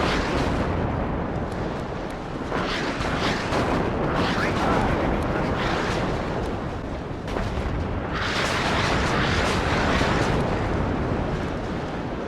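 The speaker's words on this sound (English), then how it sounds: "Gorgeous artillery." Artillery fire in the video game WARNO rumbles and booms continuously in a dense, loud barrage, with bursts swelling and fading over roughly twelve seconds as detonations overlap.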